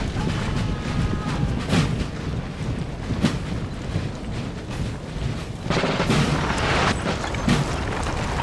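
Cannon artillery fire in a Napoleon Total War battle: several sharp booms at irregular intervals over a dense, continuous rumbling battle din, with no talk.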